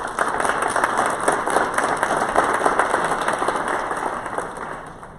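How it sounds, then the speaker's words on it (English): Steady applause from a crowd at a disability awareness kickoff event, dense clapping that holds for several seconds and tapers slightly at the end. "If you could give them a round of applause."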